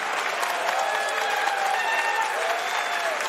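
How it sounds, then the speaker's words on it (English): A wrestling crowd at the WrestleCon Mark Hitchcock Memorial Supershow cheers and applauds for Bandito, a steady, dense roar of clapping and shouting that holds throughout with no clear break. "you can hear the crowd cheering for Bandito"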